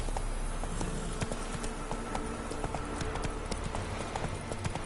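Galloping hooves of Roach, the horse in The Witcher 3, beat out a steady, close clip-clop rhythm over faint buzzing insect ambience.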